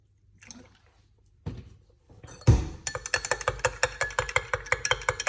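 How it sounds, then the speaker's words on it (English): Room temperature water poured into a glass cup for a cayenne pepper morning drink, a quiet trickle followed by a rapid, rhythmic series of bright clinks and glugs. "then you're going to put some water in it"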